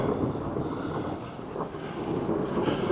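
Steady rain pours down with a dense, constant hiss, close and fairly loud, with no voices.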